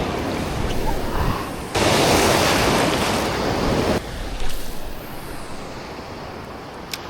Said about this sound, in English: the swell's filling in. It's a pretty solid wave over there.